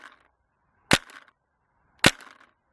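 Two sharp paintball marker shots through a 0.690 bore barrel, about a second apart, each a crisp loud pop with a short tail, separated by near silence at an outdoor range.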